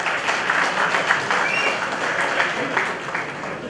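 Audience applause fills a conference hall at an MSME business conclave, a steady dense clapping from a large crowd that holds at an even level throughout.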